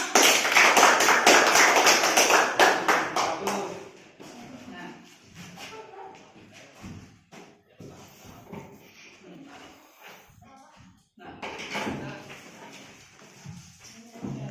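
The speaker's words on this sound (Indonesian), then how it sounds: "Tepuk tangan dulu buat kita semua" A classroom of students in a mathematics lesson breaks into brisk, loud group clapping for about four seconds. Scattered taps, shuffling and faint voices follow, and a smaller flurry of clapping rises again near the end.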